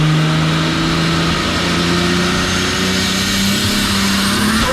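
A Holden VL Calais Turbo engine revs up loud and close, a steady rising drone that holds strong through the whole stretch with no voices over it.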